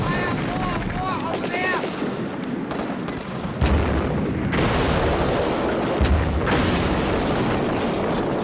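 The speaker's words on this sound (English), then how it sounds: "The two ship firing." Ships firing in the 1965 film Thunderball, a run of loud booms and gunfire bursts over dense action-scene noise, with brief voices at the start.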